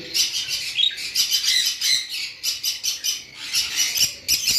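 Lovebirds, a red-headed opaline and a blue bird among them, squawk and chirp in rapid overlapping bursts, close and fairly loud throughout with no talking.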